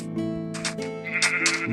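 Sheep in the Minecraft video game give a couple of clear, close bleats, loud and alone with no talk, within under two seconds.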